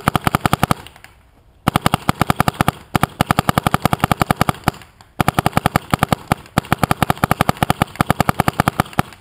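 An Ego 7 paintball marker fires on semi-auto in long, fast bursts of sharp, loud, evenly spaced pops, close by, with two brief pauses between strings and no voices.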